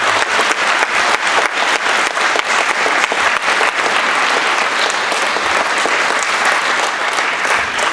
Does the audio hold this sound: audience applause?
yes